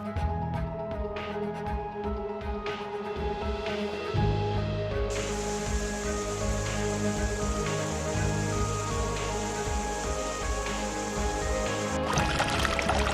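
Mountain trail water on a trek, a waterfall and flowing stream rushing in a steady, dense wash that swells louder partway through and stays continuous and near, with no talk.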